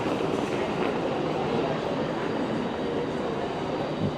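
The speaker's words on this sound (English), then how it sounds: "the train on the opposite side has gone" A passenger train pulls away from the opposite platform of a station, its rolling rumble and faint wheel clatter holding steady at moderate distance with no talk.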